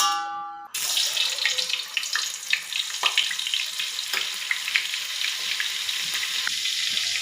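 Oil and butter go into a hot pan for pav bhaji and sizzle loudly right away, a close, continuous crackling fry with small spattering pops throughout.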